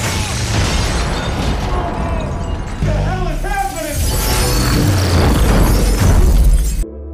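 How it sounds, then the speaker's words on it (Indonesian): An explosion in a recap of the film The Cloverfield Paradox, a blast that burns out a particle accelerator aboard a space station: dense loud crashing and shattering debris with booming low rumble sustained throughout, ending abruptly, under a dramatic soundtrack. "terjadi gangguan diikuti dengan ledakan yang membakar akselerator"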